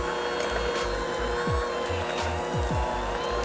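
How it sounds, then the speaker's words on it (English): Electric mixer whirring through french toast batter in a bowl, a loud steady motorized drone with rhythmic pulsing and a few pitch sweeps as the beaters shift, close, with no voices. "Now our mixer."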